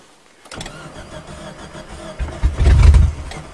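A 1994 Tracker's engine is cold-started for the first time, cranking from about half a second in, then catching and surging into a louder, rougher burst of running near the end, close and alone.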